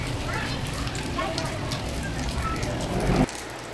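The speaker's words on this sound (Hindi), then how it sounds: "बारिश हो रही है।" The first rain of the hot season in Pakistan falls as a continuous, dense crackling patter on surfaces nearby, steady and fairly loud throughout, with a brief louder burst just before it quiets slightly.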